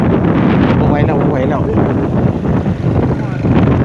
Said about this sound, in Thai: โอ้โหลมกลับเลย